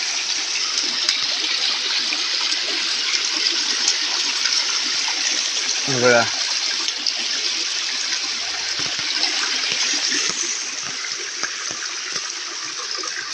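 Steady rushing rainwater flows continuously along a flooded road after a downpour, a dense broadband wash, with a brief low gurgle near the middle and a short spoken word.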